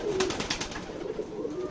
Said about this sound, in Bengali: এটা হচ্ছে আমাদের ফার্ম হাউস কবুতরের খামার